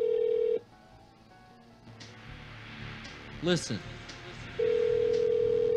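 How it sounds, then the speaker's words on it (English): A telephone dial tone hums steadily, cuts out for a short keypad tone burst and a spoken word, then returns to the continuous dial tone. "Pick up the phone."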